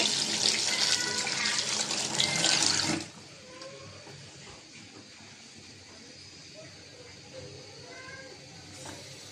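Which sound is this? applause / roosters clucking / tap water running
tap water running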